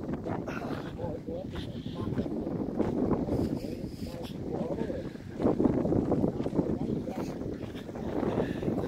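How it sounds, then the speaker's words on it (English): Steady north wind blowing across Morphy Lake, a continuous low rushing roar with gusting swells and microphone buffeting throughout, mixed with faint talk. "The north wind is blowing on Morphy Lake."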